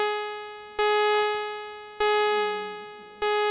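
A BMC093 diode shaper VCA synth module sends out a bright, buzzy tone in three repeated pulses, each one starting sharply and then fading down toward cutoff in a regular rhythm.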